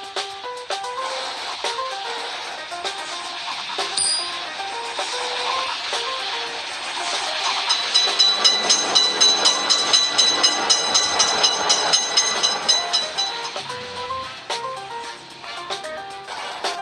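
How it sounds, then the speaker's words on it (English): A cartoon video game train rumbles past a railroad crossing with steady clattering and chiming tones layered over it, loud and continuous, swelling in the middle before easing off. "Train is coming!"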